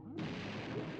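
A grenade egg blast in the video game Banjo-Tooie, a sudden broadband boom that sets in abruptly and holds as a dense rumbling roar for about a second, close and loud.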